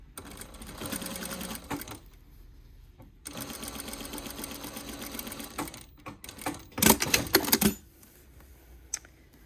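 A sewing machine runs in bursts of rapid, even stitching on a top's straight seam, pausing between runs, with a brief louder clatter near the end.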